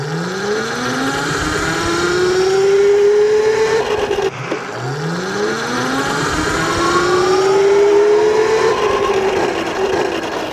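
An AMYET S8 3,000 W street-legal electric bike launches hard twice. Each time its motor whine climbs loud and close in a rising tonal sweep over rushing wind.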